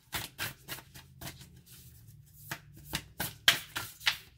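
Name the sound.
shuffling and drawing tarot cards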